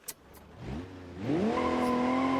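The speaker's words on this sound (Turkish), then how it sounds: "Şöyle biraz lastik yakayım. BMW'sin lan sen lastik yakacaksın tabi." A BMW in the BeamNG.drive driving game burns rubber, its engine revving up into a steady loud tire squeal with sustained tonal screeching that builds and holds.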